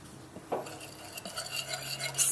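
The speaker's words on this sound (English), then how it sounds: "Stirring this to blend it thoroughly." A spoon stirs a small bowl of soy sauce and ground cumin brushing mixture, giving light scraping and clinking against the bowl with a few sharper taps, close and quiet.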